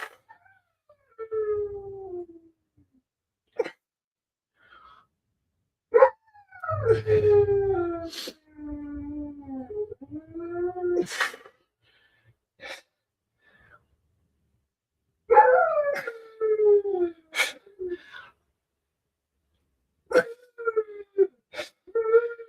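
A dog confined in a crate howls and whimpers in long, wavering, mournful cries, repeated in separate bursts with quiet gaps between, fairly close and clear, with a few short sharper yelps mixed in.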